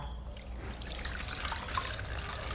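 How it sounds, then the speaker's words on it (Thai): Water is poured onto sliced banana blossom in a home kitchen, a steady close trickling and splashing that runs unbroken for the whole stretch, with no voices. "เดี๋ยวคุณยายเอาน้ำใส่เลยนะคะ"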